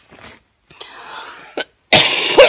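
A person coughs several times in short, harsh bursts separated by brief pauses, with a louder and more forceful cough at the end, close to the microphone and with no talking.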